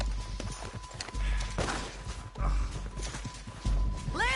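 Horse hooves clip-clop in the Red Dead Redemption 2 video game, with uneven hoofbeats and thumps, moderately faint, alongside other game sounds and a short rising whine at the end.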